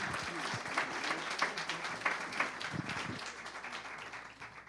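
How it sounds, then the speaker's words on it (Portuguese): Audience applause at a book launch event, steady clapping from a seated crowd filling the room, moderately loud and continuous with a faint voice beneath it. "para eles, portanto, eu peço uma salva de palmas"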